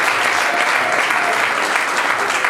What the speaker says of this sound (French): Lorsque tu es en train d'applaudir